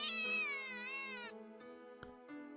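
A cat meows in a single drawn-out, wavering cry followed by a couple of shorter, softer mews, clear and close with no talk over it.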